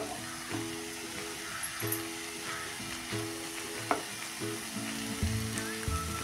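Cauliflower keema sautés in a pan with a steady close sizzle and frying crackle, broken by occasional stirring scrapes and clinks.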